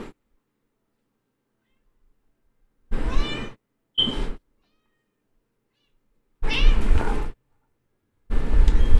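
A house cat meows in four separate, loud, close calls spaced apart by silent gaps, each call drawn out and wavering.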